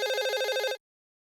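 A telephone bell rings in a fast, trilling electronic burst for under a second, loud and close, then cuts off abruptly into silence, with no voices.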